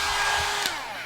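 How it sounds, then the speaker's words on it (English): A hair blow dryer blowing on a cat's fur, a steady close whooshing roar with a brief bump near the end, no talking. "Let's blow dry his hair."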